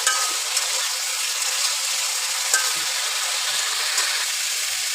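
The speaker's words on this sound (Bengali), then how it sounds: "সজনাটা কিছুটা কষায় নেব, ভালো করে না কষানো হলে গন্ধ করে কাঁচা কাঁচা" Moringa drumsticks sauté in a covered pan for a red lentil dish, giving a steady, soft hissing sizzle with faint crackles that stays even for the whole stretch, with no voices.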